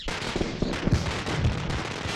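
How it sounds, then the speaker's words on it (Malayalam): Firecrackers burst in a dense, continuous crackling volley, loud and close, with sharp pops tumbling over one another for the whole stretch. "പടക്കം അതൊക്കെ പൊട്ടിച്ചു തീർന്നു"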